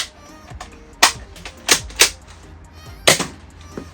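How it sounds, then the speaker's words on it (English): A Nerf Rival blaster is reloaded and fired: a string of sharp plastic clicks and snaps, with distinct loud cracks near the one-, two- and three-second marks, close up with no talk. "you have to hit this slide release here, then load the dart, then smack the front, then pull this, and then push it back up in order to fire"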